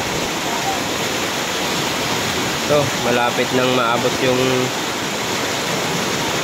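Typhoon floodwater spreads wide across Barangay La Medalla with a steady, loud rushing roar that never lets up, while someone speaks briefly over it.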